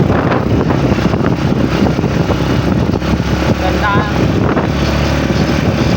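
Steady wind buffets the microphone in a continuous roar, with a voice speaking briefly under the rumble.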